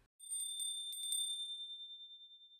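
A single bright bell rings with a few quick struck pulses, then its clear tone lingers and slowly fades with a wavering shimmer.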